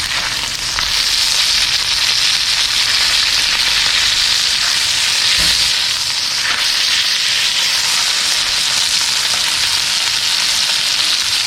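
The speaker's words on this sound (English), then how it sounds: "Sear all those edges." Beef filet mignon edges sear in a hot pan with a loud, dense, continuous sizzle close up, steady throughout with no talk.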